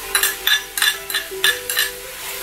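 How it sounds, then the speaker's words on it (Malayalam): Crushed garlic, ginger and green chili sautéing with onions in a pan, with a spoon stirring and scraping in a steady rhythm of about six close, clinking strokes over a soft sizzle. "ഇനി അതും കൂടെ ചേർത്ത് നന്നായിട്ടൊന്ന് ഇളം ലൈറ്റ് ബ്രൗൺ ആവണ വരെ നമുക്കൊന്ന് വഴറ്റിയെടുക്കാം"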